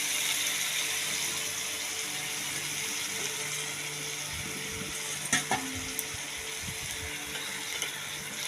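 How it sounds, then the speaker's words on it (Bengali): Spice paste and green chillies frying together with softened onion and tomato in a pan, a continuous soft sizzle with a few clinks and scraping stirs near the end, no voices. "এবার আমি দিয়ে দেবো মশলার পেস্ট আর কাঁচা লঙ্কা দুটো একসাথে দিয়ে আমি এটাকে ফ্রাই করে নেব।"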